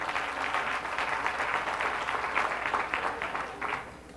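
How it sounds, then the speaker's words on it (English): Church congregation applauding at an apostolic faith service, a steady wash of clapping that holds at an even level for the full span, close and fairly loud with no voices over it. "Give yourselves a great big round of applause."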